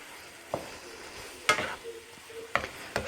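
Beef in marinade stir-frying in a pan with no added oil, giving a steady low sizzle broken by several sharp scraping stirs, heard close with no talk.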